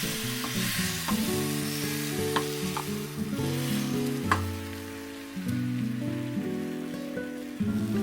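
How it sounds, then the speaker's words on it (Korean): Steady sizzling of two beaten eggs frying in olive oil in a hot pan, with faint clinks and a low electronic hum underneath. "팬에 올리브유 뿌려주고 계란을 투하합니다."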